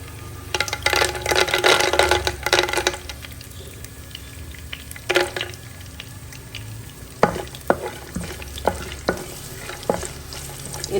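Peanuts frying in oil, stirred with a spatula: a close, crackling sizzle with repeated scraping and clacking strokes against the pan, louder early on and then sparser sharp stirring knocks, no voices.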